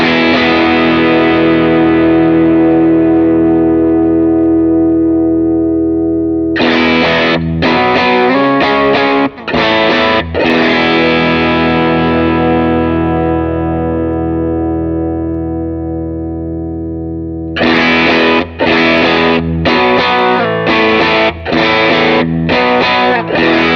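Electric guitar played through a Line 6 Helix with drive and reverb in a worship-style tone: distorted chords ring out and decay in long reverb tails, broken by bursts of choppy strumming, loud and alone.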